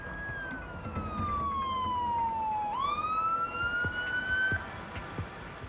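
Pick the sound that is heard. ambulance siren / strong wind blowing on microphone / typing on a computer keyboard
ambulance siren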